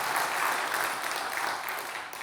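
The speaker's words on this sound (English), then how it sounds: "I think we need to give them a round of applause and recognize them." An audience at an evening gathering applauds to honour Jason and Luke: dense, steady clapping that fills the room at a constant level, dipping only slightly near the end.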